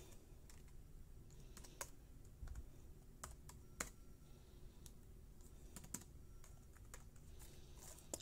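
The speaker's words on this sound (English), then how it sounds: "Typing with one hand is hard." Keys clatter on a computer keyboard while an iPad 2 is being downgraded from iOS 9 to iOS 6, typed one-handed in uneven bursts of close, crisp clicks against a faint steady hum, with no speech.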